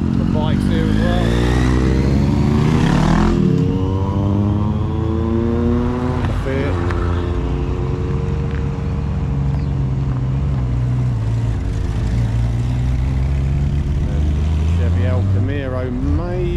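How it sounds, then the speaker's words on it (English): A trike and cars rev and pull away from a car and bike night at the Bluebell Inn. The engines are loud and close, with rising and falling revs and passing sweeps, and a voice talks over them. "And the trike is gearing up, ready to leave."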